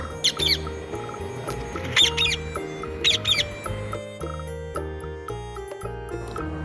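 A parrot squawks in three short, shrill bursts over a cheerful children's music backing in an Urdu alphabet song.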